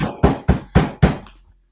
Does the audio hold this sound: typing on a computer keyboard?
no